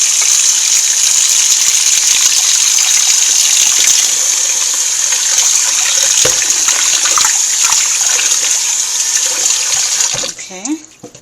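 Oxtail being rinsed under running water, heard as a loud, steady gush from a tap that pours continuously up close, then tapers off with a few splashes near the end.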